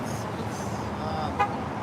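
Cars honking in support along a street during a Sunday sidewalk demonstration in Yakima, with one short horn toot standing out over steady roadway traffic noise.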